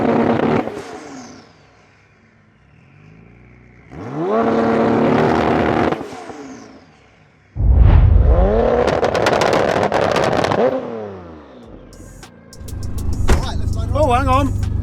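Engines of a 1600 bhp Porsche 911 Turbo S and a 1600 bhp Nissan GT-R rev and accelerate in loud, close bursts separated by lulls, with strong wind buffeting the microphone.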